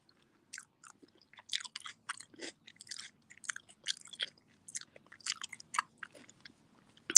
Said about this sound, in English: Trying to chew this food. I got a big old mouthful of food.